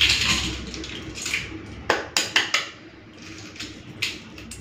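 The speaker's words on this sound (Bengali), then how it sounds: "সব ডিমগুলো ছাড়িয়ে নিলাম" Freshly boiled, still-hot eggs are tapped and their shells cracked and peeled off by hand, giving a handful of sharp, close clicks and crackles over quiet kitchen background.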